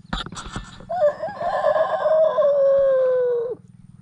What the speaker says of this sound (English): Can you crow for me?